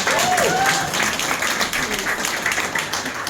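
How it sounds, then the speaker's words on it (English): Audience applause at a Diwali celebration rolls on steadily, a dense wash of clapping with some crowd noise and voices mixed in. "Give TD a big round of applause."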